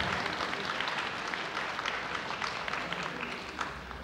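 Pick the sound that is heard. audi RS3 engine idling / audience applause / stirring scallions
audience applause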